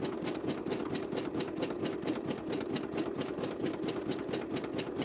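A sewing machine stitching at a quick, even pace while crafting a 3D suitcase, its needle producing a steady rapid mechanical chatter that runs unbroken and fairly quiet throughout.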